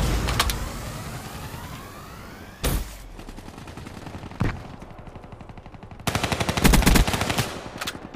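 Automatic gunfire from a Call of Duty Black Ops III multiplayer match crackles in rapid bursts, with loud, sharp volleys near the start, middle and end over a steady background of in-game noise.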